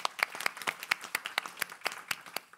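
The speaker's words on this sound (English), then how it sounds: "Maybe we give her an applause." A small audience at a development data conference gives brief applause, sparse overlapping claps with a few sharper hits standing out, fairly light and close.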